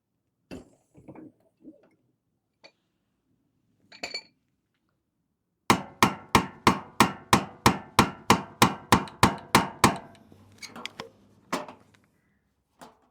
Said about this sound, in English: we may be able to tap out with an old screwdriver and hammer